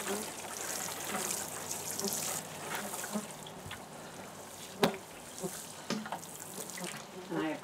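Water poured by hand from a container onto young cabbage plants in a garden bed, a soft steady trickle and splash running throughout, with a person speaking over it.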